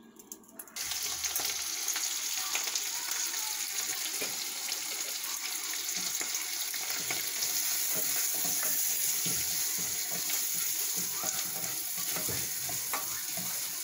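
Butter and flour stirred in a pan to start a béchamel, a steady sizzling frying sound with spoon scraping, continuous and fairly close for the whole stretch after a brief quiet start.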